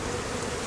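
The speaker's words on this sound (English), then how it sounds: "You can tell by all these bees circling around" A dense, steady buzzing of bees around a tree fills the short moment, loud and close, with no voices.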